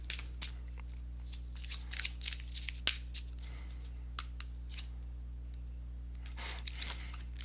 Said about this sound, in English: I'm going to go ahead and give the cards a shuffle